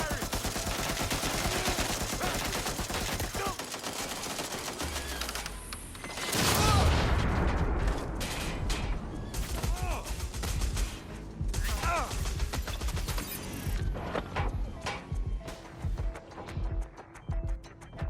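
Game gunfire and crashing impacts from Watch Dogs Legion, with a heavy boom around the middle followed by scattered rapid shots, under a busy soundtrack and voices.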